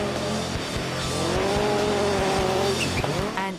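A rallycross race car with a 2-liter engine, driven hard by a European Rallycross champion, roars loudly and continuously up close with rising engine whine and tires squealing and skidding, heard from inside the car.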